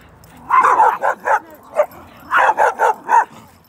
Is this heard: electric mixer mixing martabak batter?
no